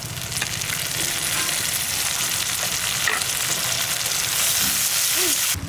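Tomatoes added to reddened onions frying in a pan for a Bengali egg curry, giving a continuous close sizzle with occasional stirring scrapes and clinks against the pan, no talking.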